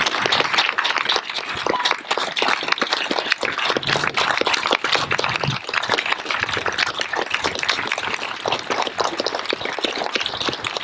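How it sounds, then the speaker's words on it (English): A National POW/MIA Recognition Day audience gives a sustained round of applause: dense, loud clapping from a large crowd continues without a break. "I want you all to recognize them with a round of applause"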